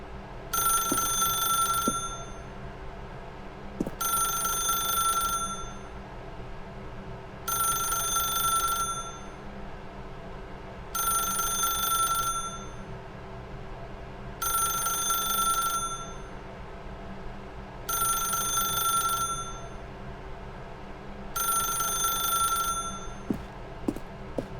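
A telephone rings in The Stanley Parable: Ultra Deluxe, seven evenly spaced bell bursts of about two seconds each, separated by quiet pauses, clear over a low hum.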